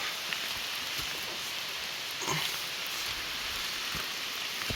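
Warm rain patters through a forest on a mushroom-picking outing, an even, close hiss of falling drops with occasional louder drips, no voices.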